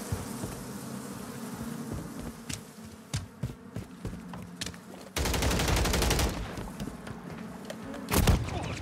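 Gunfire in the game Modern Warfare III: scattered sharp shots and short bursts against a buzzing drone, then a louder, denser stretch of rapid fire and a heavy blast near the end.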